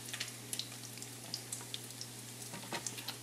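Hot bacon grease sizzles and crackles in a pan, a steady close frying hiss scattered with sharp little pops and spits throughout, with no talking.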